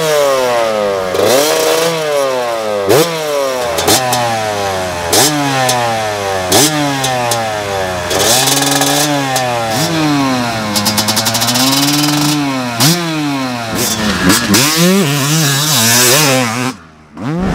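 A 2024 Yamaha YZ250 two-stroke motorcycle on the move, its engine revving hard and nearly nonstop with sharp rising and falling pitch sweeps as it shifts through gears, loud and close, cutting out abruptly near the end.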